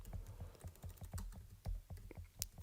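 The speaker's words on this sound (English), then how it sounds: "so I'm going to type that in the chat" Soft, quick keystrokes patter on a computer keyboard in an irregular rhythm, close and quiet, with short pauses between bursts and no voices.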